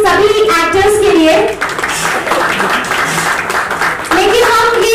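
An audience at a Bollywood film launch event claps for the actors, with continuous, busy applause running throughout and voices speaking over it.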